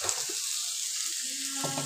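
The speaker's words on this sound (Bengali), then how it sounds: "দেখো এগুলো ভাজতে আমি দিয়ে দিচ্ছি" Vegetables for chowmein fry in a pan with a steady, bright sizzle that hisses close and continuous, with a few soft knocks and stirring sounds near the start and end.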